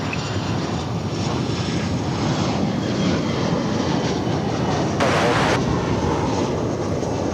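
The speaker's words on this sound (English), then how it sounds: "Here comes American Flight 1066 from Mexico City, just now arriving on 18 right" An American airliner from Mexico City lands on runway 18 right at DFW Airport, a loud, steady roar of engine and rushing noise that swells briefly around the middle.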